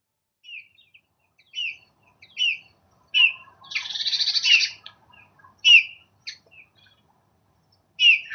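A small bird chirping in short, bright bursts spaced a second or two apart, with one longer trilling call in the middle, close and clear against a silent background.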